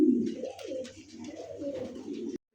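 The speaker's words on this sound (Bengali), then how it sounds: "দেখেন খুবই সুন্দর কবুতর ভাই, একবারে নতুন কবুতর।" Pigeons of a fancy breed coo softly and repeatedly at close range, low rolling calls rising and falling with a brief pause, quiet overall with no talk.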